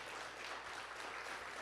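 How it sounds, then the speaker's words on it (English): Faint, steady applause from a live theater audience at a season announcement event, a thin wash of clapping heard from a distance with no voices over it. "Give yourselves a round of applause for being here,"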